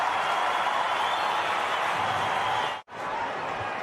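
Dense, roaring crowd noise at a Geelong versus Fremantle Australian football match, a steady loud wash of cheering that cuts out abruptly near the end before resuming.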